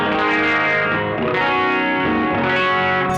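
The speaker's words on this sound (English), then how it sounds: "Doubling makes it sound like you're playing 2 guitars at once" An electric guitar played through a doubling effect sounds thick and layered, like two guitars at once, with a slightly distorted, chorus-like shimmer ringing continuously and loudly, no talking.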